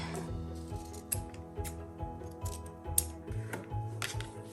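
Scissors trim paper for a folio collage project, giving a quick series of close, crisp snips in a loose rhythm over a quiet room hum.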